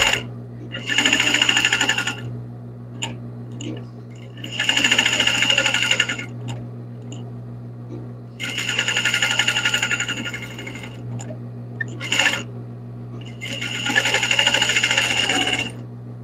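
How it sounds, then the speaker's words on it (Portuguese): A sewing machine stitches a detail for a felt rabbit's belly in short loud bursts of rapid whirring separated by pauses, with a steady low hum running underneath throughout. "Vai passar uma costurinha na pontinha desse detalhe que vai na barriga."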